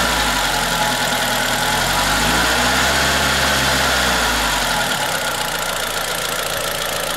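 A Nissan car engine idles close by with a steady low hum and rumble, its pitch dipping and recovering midway before settling into an even drone.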